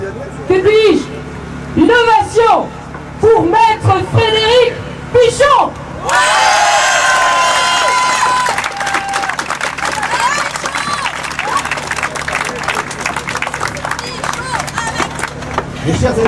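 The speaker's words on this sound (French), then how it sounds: "Nous allons faire un triomphe, que dis-je, une ovation pour Maître Frédéric Pichon." Audience ovation at a political rally in Lyon: after someone speaks over a microphone, a crowd bursts into loud sustained applause with cheers and whoops, then rhythmic clapping continues to the end.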